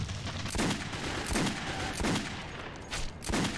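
Bursts of automatic gunfire in Metro 2033 Redux, about five short volleys of rapid shots in an uneven rhythm, loud and close.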